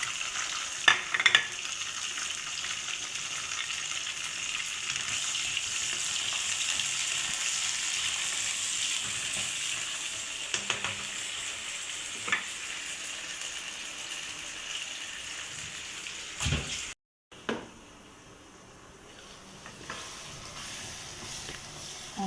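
Peas, potatoes and a little tomato fry in a pan with chicken, giving a steady loud sizzle across the whole stretch, punctuated by scraping stirs and a brief quiet break near the end.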